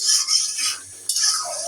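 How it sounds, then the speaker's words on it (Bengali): A spoon scrapes and stirs in a pan as a masala of green chilies, onion, coriander, chili powder, salt, turmeric, cumin and ginger-garlic paste fries, giving short, close, crisp scraping strokes. "কাঁচামরিচ, পেঁয়াজ, ধনিয়ার গুঁড়া, মরিচের গুঁড়া, লবণ, হলুদের গুঁড়া, জিরা, আদা রসুন, মশলা সব কিছু একসাথে দিয়ে মশলাটা কষাই দিচ্ছি"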